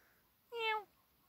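A cat in a back garden lets out one short, clear meow, rising and then falling, close by against a quiet background.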